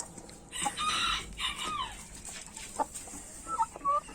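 A rooster clucks and calls in a few short bursts, fairly close, with quieter chicken sounds scattered through the rest of the clip.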